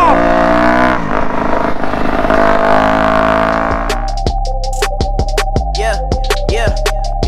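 Motorcycle engine revving at full throttle, first a steady high-pitched roar, then a rapid series of sharp throttle blips and crackles, loud and close, with no talk over it.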